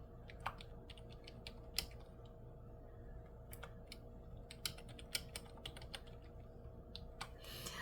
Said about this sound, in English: I gotta get my keyboard out here.